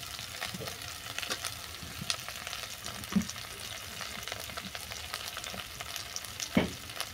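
Slit green chillies and chopped tomato fry with water spinach stems and other vegetables for a vegetarian chorchori, producing a quiet, crackly sizzle with scattered spatula clinks and scrapes, two of them more pronounced, and no speech.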